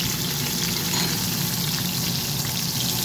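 Whole large tomatoes and whole garlic cloves fry in a hot pan, giving a steady, loud, even sizzle and crackle of spitting oil that runs without a break.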